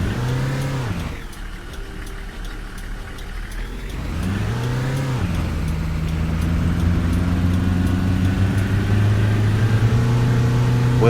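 Coach engine in Fernbus Simulator driving along, a steady mid-pitched motor drone with gear-change dips and rising revs, loud and continuous with no talk.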